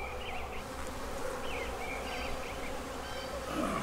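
Honey bees buzz in a spring hive during an inspection of frames for queen cells, a steady, close, dense hum that runs unbroken throughout with no talking.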